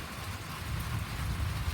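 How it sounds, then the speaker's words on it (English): Steady rain falls and pools on a residential driveway, a soft, continuous wash of patter with low rumbling underneath, fairly quiet and unbroken. "I don't know how much we've had, but it's been a good rain"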